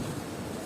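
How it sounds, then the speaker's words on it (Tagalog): Strong wind blows outdoors in Kuwait, a brief loud continuous rush buffeting the microphone with no other sound. "Ang lakas ng hangin dito, guys."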